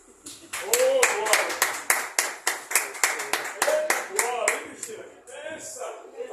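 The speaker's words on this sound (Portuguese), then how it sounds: "E as palmas louvem ao Senhor" A church congregation claps in praise in a rhythmic, evenly spaced beat, about a dozen strong claps, then fades as voices carry on.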